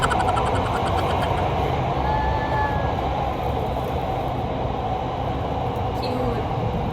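A Doha metro train runs along the track with a steady rumble and faint whine, continuous and fairly loud, with voices audible in the background.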